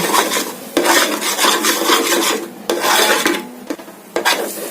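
Cashew paste being stirred and fried in a pan, loud rasping scrapes of a spatula against the pan in repeated strokes, close up and with no voices.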